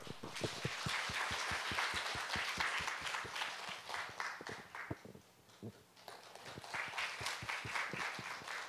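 A conference audience applauds to welcome a lecturer, with a few loud, close claps over the softer crowd. The clapping dips briefly midway, then swells again before fading.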